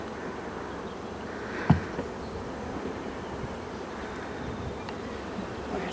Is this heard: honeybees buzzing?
yes